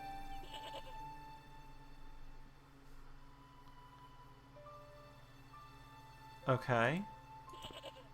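A goat bleats in the Broken Sword video game, a short loud wavering burst close by over a quiet ambient game background, with a brief spoken word from a person.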